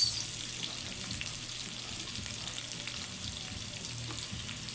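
Onion and garlic fry in a pan for pork humba, a close, even sizzle with soft scraping as they are stirred, steady throughout and no voices.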